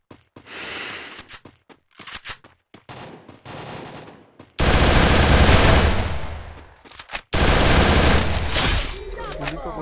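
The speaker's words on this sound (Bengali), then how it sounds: "গুলি তো করছিস কিন্তু কাকে করছিস আমি বুঝতে পারছি না" Gunfire in a shooting video game comes as sparse shots first, then two long, loud sustained bursts of automatic fire, with a player's voice in between.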